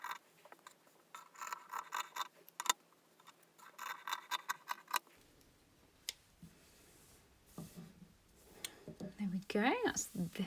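Scissors cutting through a T-shirt along a drawn line, a series of close snips and crisp fabric clicks in short bursts, with a person talking over parts of it.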